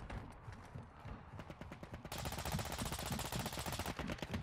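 Rapid gunfire in a video game, a dense run of sharp bursts that starts fairly loud and grows louder and more continuous after about two seconds, with no talk over it.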